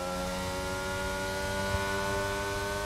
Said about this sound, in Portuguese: O barulho desse motor Mercedes também é bonito